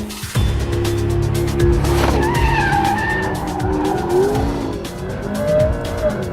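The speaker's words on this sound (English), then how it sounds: "How can you not enjoy power sliding this car?" A 2014 McLaren P1 hypercar power sliding, its engine roaring loudly and continuously while the tires squeal in rising and falling wails, close and dominant with no talking.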